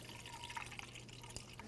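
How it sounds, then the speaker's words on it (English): Pre-diluted 50/50 coolant pours steadily through a funnel into a car radiator, a continuous close liquid gurgle and trickle with small drips and no talking. "now we're going to fill up our radiator with new coolant"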